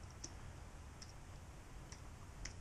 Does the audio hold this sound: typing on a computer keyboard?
yes